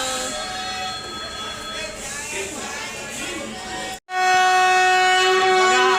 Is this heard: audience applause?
no